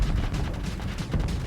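Enemy ships' weapon fire in the space game Starsector, a dense continuous barrage of rapid impacts and blasts that stays loud and steady throughout with no pauses.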